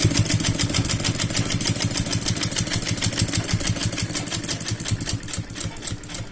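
A sewing machine stitches a blouse sleeve, its needle thumping in a fast, even mechanical rhythm, close and continuous throughout.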